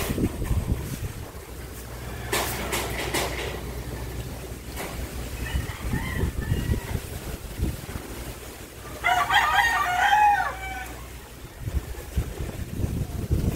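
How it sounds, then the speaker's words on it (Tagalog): A rooster crows once in the distance, a short harsh call over steady wind and engine rumble during a typhoon. "May manok pala dyan."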